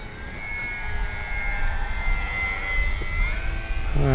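Steady, buzzing whine of an FMS Kingfisher RC model airplane engine rising in pitch as it takes off, heard from a moderate distance with constant droning noise.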